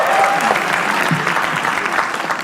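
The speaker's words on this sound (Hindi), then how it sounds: "अगली एक्ट श्रेया प्रियम रॉय के लिए तालियां एक बार प्लीज" An audience at a comedy roast show breaks into steady, loud applause for the next act, a dense wash of clapping with crowd noise that carries through the whole moment.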